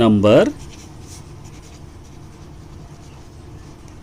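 Marker scratching across a board as a maths lesson definition is written, a loud squeaky stroke lasting about half a second at the start before fading to quiet room noise, with a voice talking.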